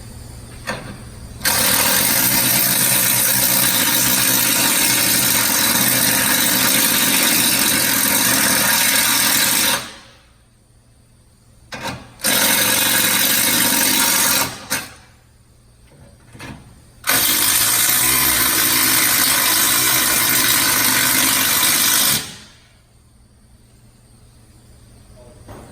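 A drill fitted with a step bit widens a bolt hole in a Ford F150 frame toward about 5/8 inch during a traction bar install, running loud and steady in three long bursts separated by short pauses.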